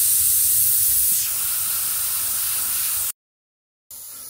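An airbrush sprays paint in a steady, close hiss that eases slightly after a second, cuts off abruptly for under a second, then resumes.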